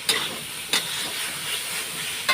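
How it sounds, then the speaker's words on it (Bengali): Chana dal poured into a hot pan of cooked-down masala gives a steady, close, loud sizzling hiss, with a few brief clinks of the utensil against the pan and no talking. "এখন আমি ছোলার ডালগুলো ঢেলে দেবো"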